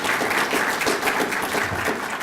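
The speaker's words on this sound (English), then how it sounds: "How about a round of applause for Jean," At an awards ceremony, the Thomas S. Green Public Service Awards, an audience claps in a steady, full wash of applause that holds at an even loudness throughout.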